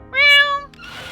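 A cat in the video game A Space for the Unbound lets out a single clear, rising-then-falling meow, loud and close, followed by a brief rustling sound.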